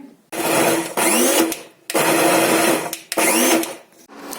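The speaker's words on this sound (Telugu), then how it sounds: "చింతపండు పేస్ట్ వేసి మళ్ళీ ఒకసారి మిక్సీ వేసుకోవాలి" Mixer grinder blending gongura tomato chutney with tamarind paste, running in three loud whirring bursts separated by short pauses, close and alone.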